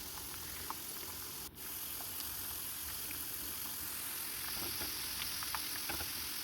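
Pieces of ivy gourd fry in hot oil for a pickle, giving a steady, dense sizzle with faint crackles. It holds evenly throughout and is heard alone.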